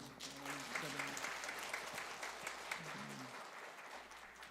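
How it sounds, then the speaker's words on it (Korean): A church congregation at a Sunday afternoon praise service applauds an award presentation. Full, sustained clapping from many people fills the room, with a voice talking over it near the start and again later. "박수 한번."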